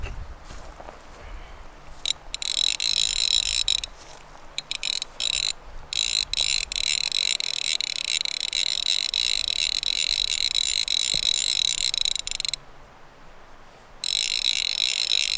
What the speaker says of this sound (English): so now I'm going to stand back up and just reel this up